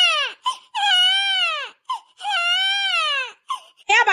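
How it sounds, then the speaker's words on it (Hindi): A baby girl cries in repeated long, wailing sobs, loud and close, with short gasping breaths between the drawn-out wails. "क्या बच्ची रोवा न चुप हो जा"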